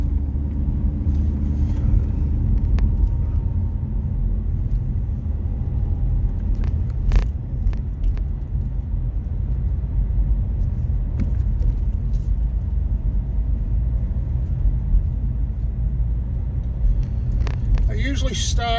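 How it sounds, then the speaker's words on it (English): Cars labouring uphill on a steep residential street, a continuous low engine rumble and road noise passing nearby, with a brief faint higher rattle near the end. "You hear the cars working to get up this."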